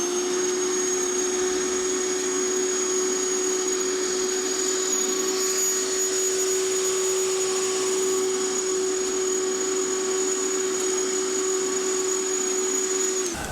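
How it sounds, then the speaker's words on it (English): Verticutter machine on setting 1 cutting through lawn grass, a loud steady motor whine with a constant high tone that holds unchanged for the whole pass before cutting off at the end. "You can hear that the machine is having absolutely no trouble whatsoever cutting through the surface of the grass"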